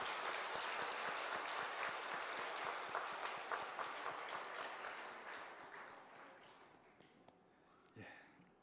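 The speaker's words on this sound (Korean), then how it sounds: "우리 환영회 박수 한번 해주시기 바랍니다." A church congregation gives welcoming applause during a Sunday service, a broad wash of many hands that is steady, then gradually thins and fades toward the end, heard from some distance.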